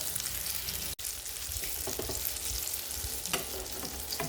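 Small bananas fry in a pan of hot oil for an afternoon snack, a loud, dense, continuous sizzle with crackling pops close up.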